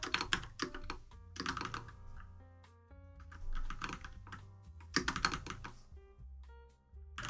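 Buttons on a computer keyboard are pressed in quick irregular clusters of clicks and clacks, close and fairly soft, with short pauses between bursts and faint music-like tones underneath.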